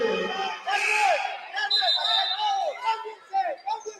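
Crowd at a boys high school basketball game, loud and close, with shouting and cheering voices rising and falling over a few seconds and overlapping chatter.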